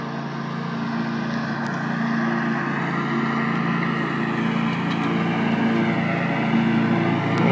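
A Bobcat lawn mower drones steadily while cutting a client's backyard, its engine a loud, continuous hum that stays close and even throughout, with no voices over it.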